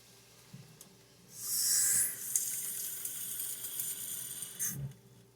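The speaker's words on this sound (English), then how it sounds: "I'm adding 2 cups of water" Water pours into a pan of softened onions in one steady hissing stream lasting a few seconds, fairly close, with faint clinks near the end and no talking.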